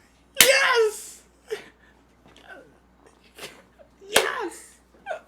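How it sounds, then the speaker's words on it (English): A person sneezes twice, loudly and close, once near the start and once near the end. A voice speaks quietly between the sneezes. "You have any more sneezes coming?"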